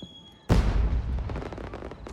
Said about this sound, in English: Ordinary starburst fireworks?